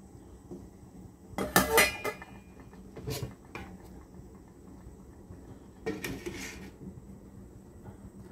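A lid set down on a cooking pot of Ilocano dinengdeng gives a sharp metallic clatter with a brief rattle, followed by a few softer knocks and another cluster of lid clinks later, all close and alone.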